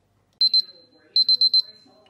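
A kitchen timer beeps as it is set while baking no-knead mini baguettes: two quick beeps, then a run of four, close and loud, with a faint voice underneath.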